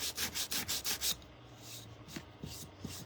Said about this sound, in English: I'm going to sand this just a little bit more.